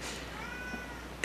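A house cat gives a single short meow, moderately close, with a faint tonal sweep in the middle, and then a sudden loud noise bursts in at the very end.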